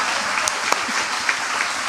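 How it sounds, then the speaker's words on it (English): Audience applause fills a town hall, dense steady clapping from a crowd close at hand with no talking over it. "Let's give her a round of applause."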